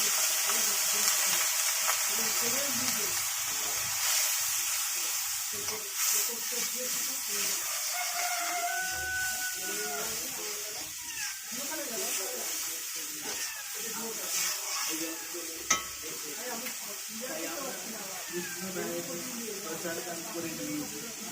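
Cumin seeds and chilies frying in oil in a kitchen, a quiet ongoing sizzle beneath someone talking for most of the stretch, with a rooster crowing faintly in the background and a brief clink near the end.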